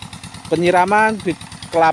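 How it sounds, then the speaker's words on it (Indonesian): A generator set engine runs at a steady, low, pulsing idle to power the watering of oil palm seedlings, with a voice talking over it throughout. "artinya mesin gensetnya baru saja dihidupkan"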